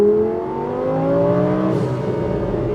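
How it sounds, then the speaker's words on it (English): A modified Audi R8 V10 with stock engine internals and turbos, making 1000 bhp, revs loudly and close up, its engine note rising and holding through the clip with a sharp burst near the end. "So it's got all the noise of the V10"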